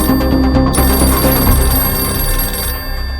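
A loud, insistent old-style telephone bell rings continuously, a rapid metallic trill that runs unbroken and close throughout.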